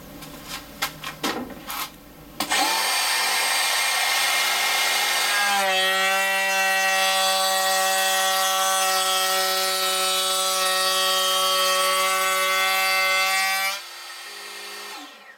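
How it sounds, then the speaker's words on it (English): A Bosch GKF 12V cordless trim router with a half-inch radius roundover bit spins up with a steady high whine, then cuts along a wood edge for about eight seconds before the tone lifts as it clears the workpiece. "I've just set this up now with a half inch, I think it's a half inch radius roundover bit."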